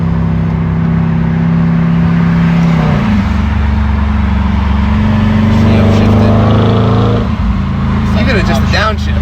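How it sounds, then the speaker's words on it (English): An Audi RS5 engine blips loudly on a downshift in a tunnel, its pitch dropping then climbing again as revs rise, close and roaring with some whirring road noise. "just a downshift."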